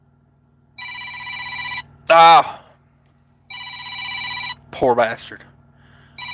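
A telephone rings with an incoming call, two bursts of a multi-tone electronic ring separated by pauses, loud and close, with a voice speaking between the rings.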